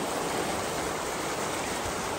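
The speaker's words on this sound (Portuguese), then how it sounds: "onde tem a reserva de água que desce para a cachoeira" Steady, dense roar of water pouring over the dam above the Caracol waterfall, loud and close, a continuous broadband rush without pauses or voices.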